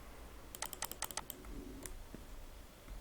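A computer keyboard clicks in a quick flurry of keystrokes as CSS code is written, then goes quiet after a few more taps, at close range over a low room hum.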